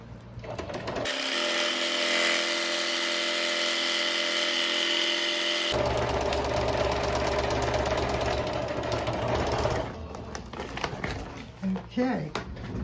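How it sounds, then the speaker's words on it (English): A sewing machine stitching a straight seam and then a zigzag across a feed bag, its motor whirring loud and steady in long runs with a brief change in tone midway, followed by stops and short handling noises. "I'm going to sew a seam across, and then I'm going to do a zigzag"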